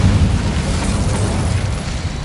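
An Incendio fire spell cast in the video game Hogwarts Legacy, a loud roaring burst of flame with heavy low rumble that sustains and slowly fades over two seconds.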